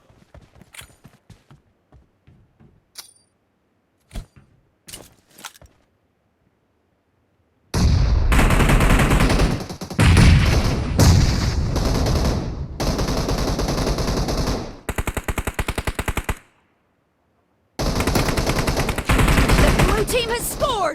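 Thompson submachine gun firing without a suppressor in a team-based video game: after a few scattered single shots, loud sustained bursts of rapid automatic fire break off briefly and then resume, close and harsh.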